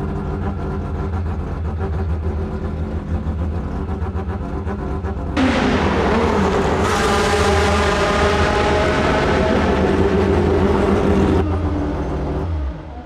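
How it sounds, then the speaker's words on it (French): Mazda IMSA prototype race car with a rotary engine, loud and close, droning steadily and then surging to a harsher, higher scream partway through before easing back near the end. "essayé un moteur rotatif comme ça dans une Mazda, une voiture d'IMSA"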